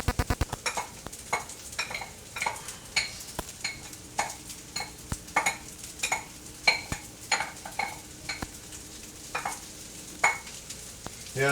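Kimchi fried rice fries in bacon grease, a spatula scraping and tapping the pan in a quick, uneven rhythm over a low, continuous sizzle.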